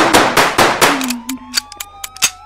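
Rapid gunshots from the Roblox game, a dense burst of loud bangs at first, then thinning into scattered separate shots.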